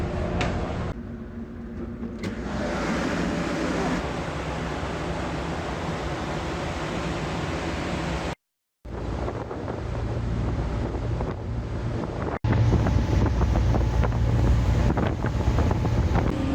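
Strong wind buffets the microphone aboard a ferry at sea, with a steady rushing roar of air and water noise throughout, briefly cutting out midway before returning louder.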